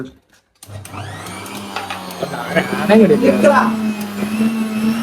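A kitchen blender starts up and whirs steadily, blending an avocado shake with spoonfuls of sugar. The loud motor drone runs close throughout, with voices briefly heard over it midway.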